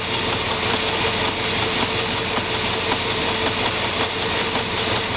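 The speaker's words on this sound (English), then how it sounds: "It's still pumping, and it'll pump for a while." A car's leak detection pump (LDP) runs steadily while testing the evaporative system of a 20-gallon fuel tank, a continuous close whirring hum with faint rhythmic pulsing and no pauses.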